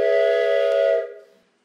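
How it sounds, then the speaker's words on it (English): A large handheld train whistle is blown once, giving a loud, sustained, reedy chord that holds for about a second and then quickly fades out. "That is the biggest train whistle I've ever, ever blown in my life."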